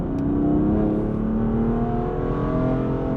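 A 550 bhp rear-wheel-drive car shifts up into third gear and pulls hard, with a loud, steady engine drone heard from inside the cabin and no gap or pause through the change.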